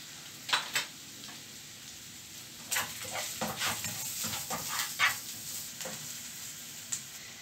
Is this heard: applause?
no